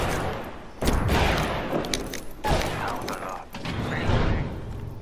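Gunfire in the battle royale game Apex Legends, dense bursts of shots crackling through a busy fight, with someone speaking over the shooting.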